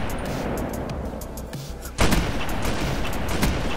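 Shotgun fire in the Black Ops 3 video game, a sudden loud blast over ongoing game noise and rumble, followed by sustained crackling gunfire.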